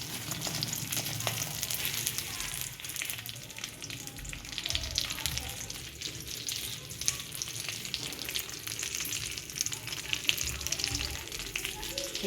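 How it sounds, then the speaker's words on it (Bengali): Raisins and cashews fry in hot oil in a pan for Basanti pulao, giving a steady, dense sizzle that carries on without a break at close range. "কিশমিশ কাজু দিয়ে ভেজে নেব"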